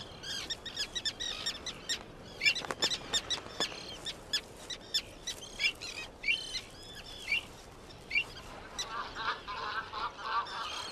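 Avocets calling at their nest by the Aral Sea shallows: a long series of sharp, repeated piping calls, some in quick bursts and some overlapping, with faint outdoor background.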